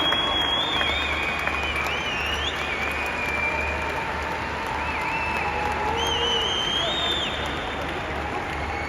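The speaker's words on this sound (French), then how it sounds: "vous faites bien de les applaudir" An audience applauds horse owners at a show jumping podium, sustained dense clapping that holds steady throughout at a distance, with a crowd murmur beneath.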